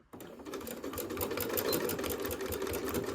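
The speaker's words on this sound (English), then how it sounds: "I'm going to start here and I'm going to do a back stitch" A sewing machine runs steadily at close range, its rapid, even needle clatter and motor hum continuous for a back stitch on a door latch cover, with no talking.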